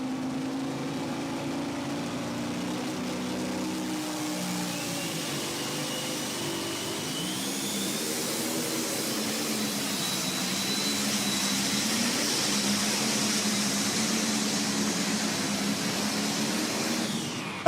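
A pulling tractor's engine roars at a tractor pull, a loud, continuous, rising howl that holds steady for the whole stretch with no talk over it.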